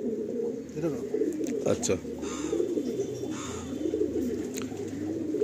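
Andhra high flying pigeons coo in repeated low throaty phrases, fairly close, while someone talks over them in Bengali.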